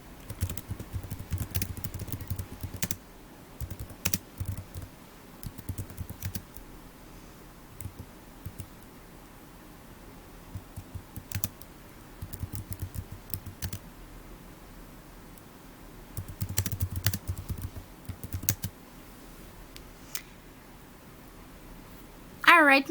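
A sentence typed on a computer keyboard into an on-screen text box: scattered, faint key clicks and small bursts spread throughout, mostly beneath a person talking.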